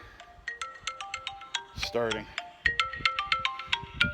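A phone ringtone plays a bright repeating melodic pattern of short beeping notes, moderately loud and close, and a person briefly speaks over it partway through.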